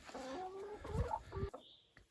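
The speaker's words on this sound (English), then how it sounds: "we've got a new cockerel. Come and meet the new boss" A cockerel clucks nearby, a few short throaty calls in quick succession, fairly quiet, ending with a brief high chirp.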